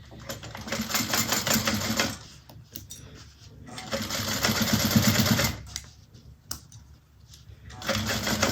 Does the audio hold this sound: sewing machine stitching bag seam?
yes